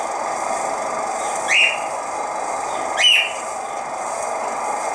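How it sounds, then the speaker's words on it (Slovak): A pet parrot calls twice in the background, two short, sharp whistled squawks a second and a half apart, over a constant loud hiss of room or window noise. "Pardon za ten zvuk odzadu, ale to bol môj papagaj."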